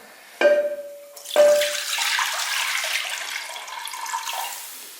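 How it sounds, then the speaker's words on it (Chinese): Coconut juice poured into a clay pot, starting with a splash and a brief pause before a steady gurgling stream that slowly fades, close by and loud with no talking. "准备一个砂锅，我们把刚才的椰汁给它倒进去"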